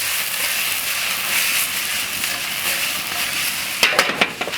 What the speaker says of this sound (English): So we saute the vegetables, okay, for maybe 2 or 3 minutes, no more, because we still want them crispy